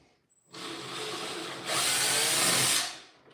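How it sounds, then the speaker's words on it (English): A power drill whirs steadily at close range, then pitches up louder as the bit bites into wood, pre-drilling screw holes for cabinet doors, running continuously before stopping. "Always pre-drill."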